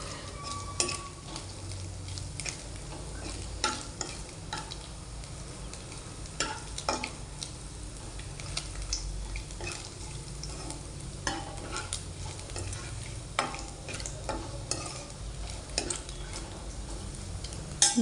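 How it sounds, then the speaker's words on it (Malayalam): Raisins sizzle in hot fat in a pan while being stirred for kinnathappam, with steady frying crackle and repeated scraping, clinking spoon strokes close by, and no talk. "ഇതൊന്നൊരു ശകലം ബ്രൗൺ ആകുമ്പോഴത്തേക്ക് മുന്തിരിങ്ങ ഇടും"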